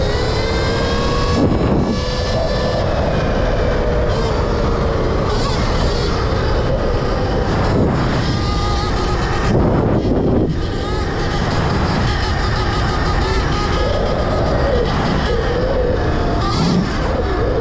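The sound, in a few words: Surron Ultra Bee electric dirt bike riding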